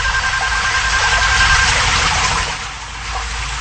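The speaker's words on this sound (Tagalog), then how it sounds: "Habang nag-shower yung babae," Shower water running, a loud steady hiss of spraying water that eases off slightly near the end, with no voices over it.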